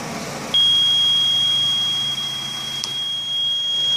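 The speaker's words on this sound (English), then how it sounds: "The machine has turned itself off there with an alarm." An engine carbon cleaner machine sounds its shut-off alarm, one steady high-pitched electronic beep that starts abruptly and holds without a break, fairly loud over a faint background hum.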